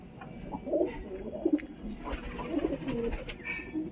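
Mumbai porpon pigeons in a home loft coo repeatedly in soft, throaty bursts, several birds close by with overlapping low calls and a few faint chirps over light background hiss.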